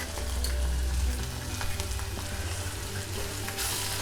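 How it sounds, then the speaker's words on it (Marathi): Fresh grated coconut roasts in an iron kadhai for a Malvani masala paste, crackling and sizzling steadily with soft stirring scrapes. The sound is close and even, with no speech. "चांगलं असं परतून घ्यायचं ओलं खोबरं"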